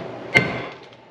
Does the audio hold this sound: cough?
no